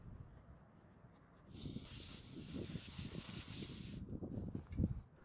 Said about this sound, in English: I'm going to clean it off with some brake cleaner